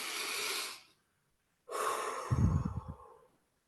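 A slow, deep breath during a guided relaxation exercise: a long airy exhale, a short silence, then another breath with a rough, snorting rush near the end, close and alone.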